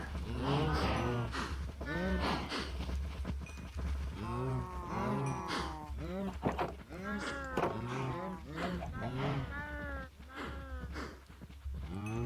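Repeated Minecraft cow moos, somewhat synthetic and game-like, overlap under a person talking, with a low steady hum beneath.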